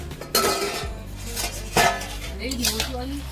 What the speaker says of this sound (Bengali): এবারে আমি ঢাকনা খুলে দেখবো কিছুক্ষণ হয়ে গেছে